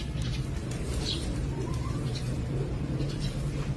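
Pigeons of a fancy breed coo softly in a loft, low repeated murmurs over a steady background hum.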